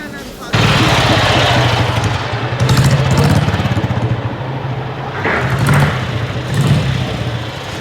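A motorbike engine runs with a steady low rumble just outside a station, continuous and fairly close, with brief louder surges while people talk over it.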